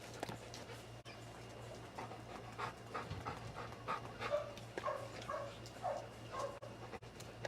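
A Labrador dog pants in quick, steady breaths, with occasional soft whimpers, close by over a low constant hum during an afternoon routine at a homestead barn.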